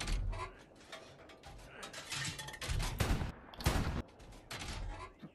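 Artillery gun firing in the World War II shooter Hell Let Loose, a cluster of loud booming blasts with mechanical reloading clatter between them over steady battlefield noise, the heaviest bursts near the middle of the stretch.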